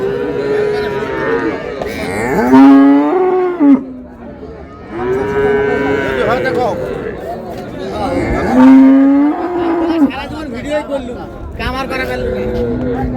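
A young bull moos repeatedly at Raniganj cattle market, loud drawn-out calls close by, with people talking and bargaining around it.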